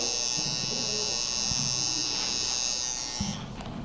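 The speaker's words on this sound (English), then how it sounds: "you can use the shaver" A Wahl electric shaver runs with a steady high-pitched buzz throughout at a barber training event, faltering briefly near the end, with faint voices in the background.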